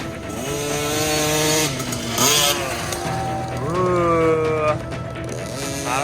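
A small dirt bike engine, a TC50 or Kawasaki KLX110, revving while ridden, with rising and falling engine pitch through gear-like shifts, loud and close throughout.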